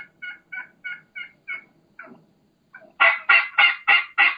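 A turkey hen gives a series of evenly spaced calls, quieter at first, then a run of louder, fuller yelps toward the end.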